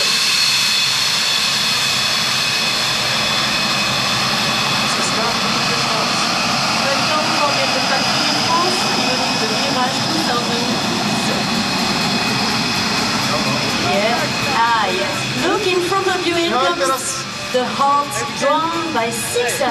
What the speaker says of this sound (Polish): Mirage 2000 przed Państwem.